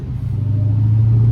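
A Dodge Hellcat's engine rumbling as it drives on a rainy day, a loud low steady drone heard from inside the car that builds slightly toward the end, with no other sounds.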